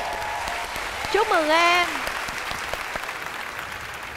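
A TV studio audience on the Vietnamese show Gương Mặt Thân Quen applauds steadily for a contestant, a broad wash of clapping beneath a man's spoken words and a brief rising musical flourish.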